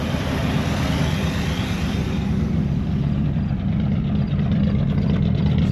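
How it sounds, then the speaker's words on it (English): A 1973 square body truck's engine idles roughly, a loud, steady low-pitched rumble close by that sputters slightly and runs unevenly throughout. "She don't run good, but she does run. She sputs a little bit."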